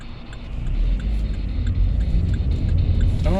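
Cars pass close by with a steady low road rumble and engine drone that swells and fades over a few seconds, without talk.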